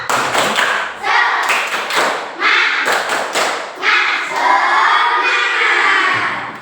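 A class of children claps in quick rhythmic patterns, bursts of hand claps mixed with loud shouted chanting.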